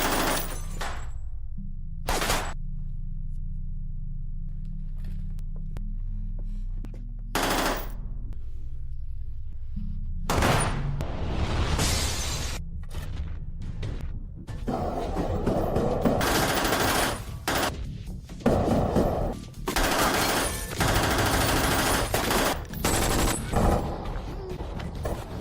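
Gunfire tearing through an office in an action movie, with sparse loud shots early, then dense rapid bursts and chaotic crashes building to a sustained barrage, mixed with dramatic score.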